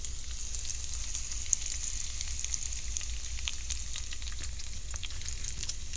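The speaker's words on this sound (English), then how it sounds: "Cast iron cooking in a Lodge skillet." Cabbage and potatoes fry in a new cast iron Lodge skillet, a steady close hiss and crackle of sizzling oil with occasional popping, with no talking.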